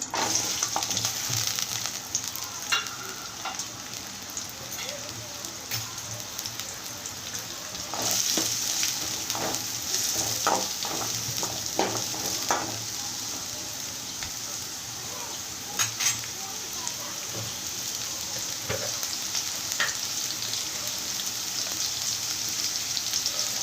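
Onion pieces frying in oil for a goat blood fry, a steady close sizzle and crackle running throughout with scattered stirring scrapes and pops.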